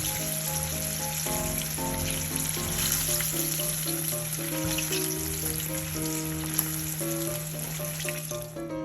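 Pieces of eel frying in hot oil until golden give a loud, steady, dense crackling sizzle that runs unbroken throughout, with soft music underneath.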